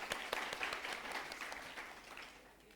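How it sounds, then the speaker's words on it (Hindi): Steady applause from a crowd, dense and crackling, holding fairly even before tapering off slightly at the end. "तालियां।"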